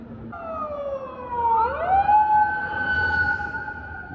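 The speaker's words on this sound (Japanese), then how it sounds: "覆面パトカーだ。" An unmarked police car's siren wails steadily nearby in Shibuya, Tokyo, its pitch sliding upward and holding, a loud urban wail over faint traffic rumble.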